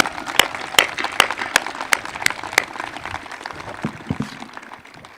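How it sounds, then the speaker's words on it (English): Graduation audience applauding at a high school class of 2021 ceremony, with several loud distinct claps standing out from a broader patter of clapping that thins and fades toward the end. "Give yourself a round of applause."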